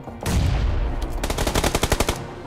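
Muffled, suppressed machine gun fire in PUBG Lite in a rapid burst, a dense rush of shots followed by distinct quick cracks in a fast rhythm, loud and close.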